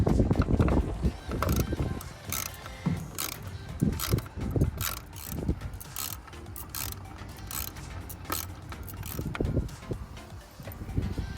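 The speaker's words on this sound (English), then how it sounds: "We're going to take these bolts off now. These are a 10mm." A ratchet clicks in quick, uneven bursts loosening 10mm coil pack bolts on a Mini Cooper S R53 engine, close up with metallic knocks and no speech.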